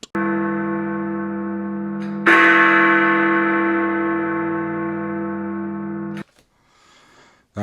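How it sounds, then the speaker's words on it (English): A bell chime rings out loud and sustained, with a second brighter strike partway through layered over the first, holding its tone before cutting off abruptly; a brief faint noise follows. "That was the chime."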